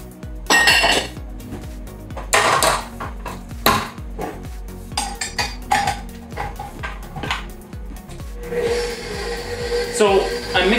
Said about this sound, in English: So I'm mixing up the butter and the flour mixture first